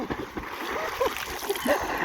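People swim and splash in a village pond, with irregular water slaps and churning close by, mixed with shouting voices.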